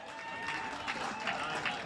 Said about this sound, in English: The crowd erupts in celebration of a fantastic pickleball rally.